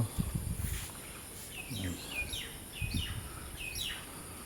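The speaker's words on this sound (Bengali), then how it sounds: "পাখির কলতান" Morning birdsong in a breezy outdoor spot: several small birds repeat quick bright chirps and short trills, moderately near, over steady wind and rustling leaves with a few low thumps.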